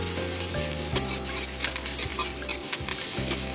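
Paprika stir-frying in a pan for a Chinese-style dish, giving a steady sizzle with light scraping and patter as it is stirred, close and continuous throughout.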